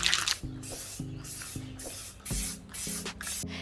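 Anti-slip spray is applied to a surfskate deck laid on protective paper, a series of about six short, close hissing bursts with brief pauses between them and no talking.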